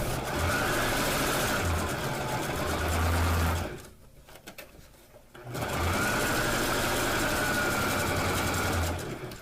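Sewing machine running a zigzag stitch along two rows of lace on a cut curtain edge, a steady loud mechanical whir that stops briefly midway, then resumes at full speed.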